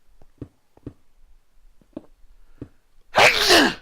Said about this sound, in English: I didn't mean to sneeze so loud.